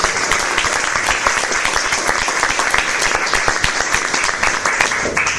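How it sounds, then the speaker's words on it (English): Dense, loud applause from an audience at a school district board meeting, a continuous wash of many hands clapping close by for the whole stretch. "So let's give a round of applause for that."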